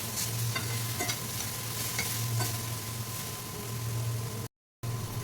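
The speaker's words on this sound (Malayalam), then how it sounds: "ഒരു മീഡിയം ഫ്ലെയിമിലിട്ടാണ് ഇത് വാട്ടിയെടുക്കേണ്ടത്" Carrot and capsicum sauté in a pan over a medium flame for chicken noodles, giving a steady close sizzle with a few stirring scrapes and a brief dropout near the end.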